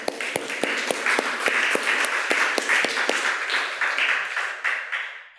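Applause from a church congregation, a strong wash of clapping with a few sharp, distinct claps standing out near the front, gradually fading toward the end.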